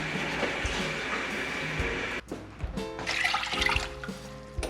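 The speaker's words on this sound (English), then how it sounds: "You want to add 2 cups of water to your pan." Two cups of water pour into a cooking pan for packet gravy, a steady close splashing stream, then clattering and shifting kitchen sounds with rising water noise.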